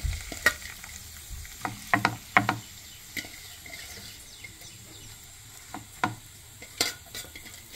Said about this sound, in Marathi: आता आपण ह्याला लसणावरती फोडणी देऊया।